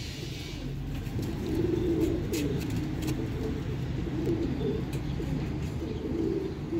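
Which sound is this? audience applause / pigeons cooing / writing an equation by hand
pigeons cooing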